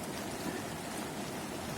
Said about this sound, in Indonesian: sekarang hujan gede, nggak berhenti